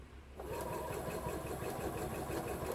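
A sewing machine stitches a flowering snowball quilt block, starting up after a brief pause and then running in a steady, fast, close mechanical rattle.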